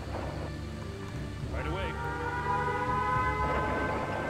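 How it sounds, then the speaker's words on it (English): An air raid siren in the video game Empire Earth rises and falls faintly under steady rain-like noise and a low rumble, with a voice breaking in briefly. "I hear air sirens."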